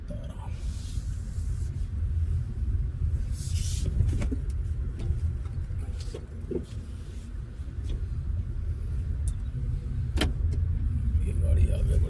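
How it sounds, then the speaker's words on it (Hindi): Fully charged car driving forward on a road in the early morning, heard from inside: a continuous low engine and road rumble runs throughout, broken by a few sharp clicks and knocks, with no talking. "ये गाड़ी आगे बढ़ती हुई"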